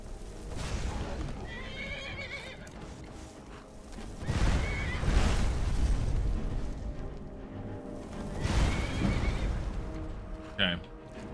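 A horse neighs loudly several times with hooves clopping in Skyrim Special Edition, modded, amid game combat noise and effects, while a player talks over it.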